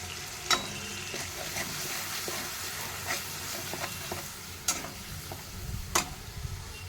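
Ginger and green chilli paste fries in hot oil with a little turmeric, a constant close sizzle punctuated by several sharp spatula taps and stirring scrapes, with no talking.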